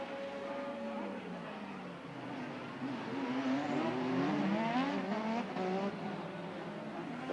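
Formula One cars from the 1988 Monaco Grand Prix scream through the streets toward Mirabeau, high-pitched engines rising and shifting as they pass, with a commentator talking over the roar.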